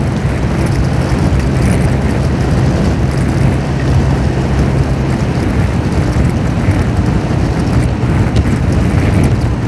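Strong wind roars and buffets loudly and continuously against the microphone while riding at about 140 km/h with the throttle wide open, a low engine drone buried underneath.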